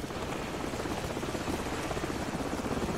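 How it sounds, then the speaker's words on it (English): A helicopter in the shooter game Call of Duty Modern Warfare churns in a loud, continuous rotor roar that holds steady for the whole stretch, with no talking. "Hold on, the helicopter's back."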